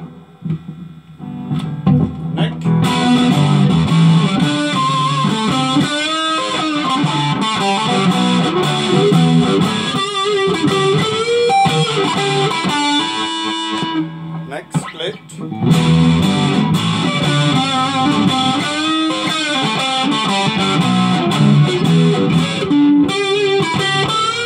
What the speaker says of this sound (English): some overdrive, my distortion